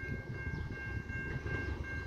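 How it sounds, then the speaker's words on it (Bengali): A steel double-decker local train, bound for Chicago Union Station, pulls into Prospect Heights station. A faint, steady low rumble of rolling cars with a thin sustained tone above it, heard from a distance with no voices. "একটি ট্রেন আসছে, তার ছবি তুলব।"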